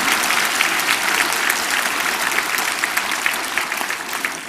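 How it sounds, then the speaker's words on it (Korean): Sustained, dense applause from a seminar or church audience fills the space at a steady, loud level, many hands clapping together without a break and no voices standing out. "박수 좀 한번 주세요."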